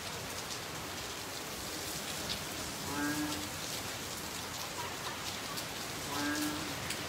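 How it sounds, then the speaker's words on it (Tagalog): Heavy typhoon rain pours steadily in Metro Manila, a dense, constant hiss with wind gusts swelling twice, and no talk over it. "napakalakas po ng ulan at hangin dito po sa Metro Manila"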